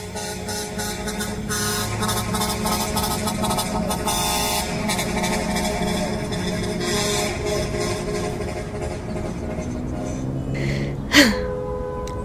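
A bus or truck horn blares in a city street, a loud sustained honk layered with steady traffic rumble, ending in a brief sharp burst near the end.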